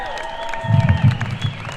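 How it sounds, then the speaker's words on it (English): A burst of applause for young Native dancers at an evening community event, a short swell of clapping in the middle under a faint lingering musical tone. "Let's give them all a big round of applause."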